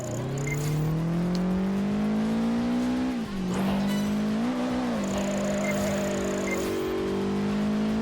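Car engine in the Project Gotham Racing 4 video game, a loud steady drone that rises and falls through gear changes, with tire squeal during drifting, no talking.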